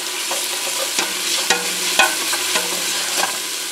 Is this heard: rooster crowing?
no